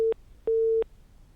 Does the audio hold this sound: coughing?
no